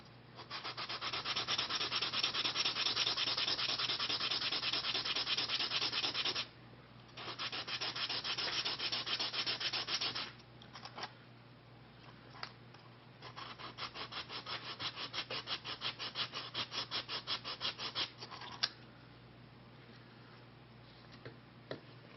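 Sandpaper rubs on wood while a Native American flute is shaped by hand: close, steady rasping strokes in long runs, broken by short pauses and quieter stretches of scraping.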